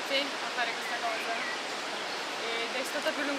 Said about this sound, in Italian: devo urlare a quanto pare perché c'è il rumore dell'acqua